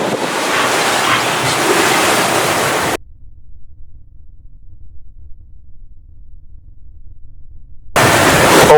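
Sea waves and strong wind buffet a sailboat making up to about 10.5 knots down developing waves, a loud roaring rush that cuts out to near silence for several seconds before returning.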